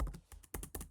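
Close, quiet typing on a Mac computer keyboard, a quick run of about six to eight soft key clicks in uneven bursts, with no talking.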